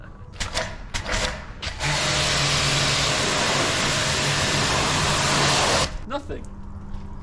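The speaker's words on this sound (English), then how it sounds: "see how these stickers hold up with a pressure washer" A pressure washer spraying stickers on a car, a loud steady high-pitched hiss and rush of water jet lasting about four seconds, bracketed by short bursts and a voice before and after.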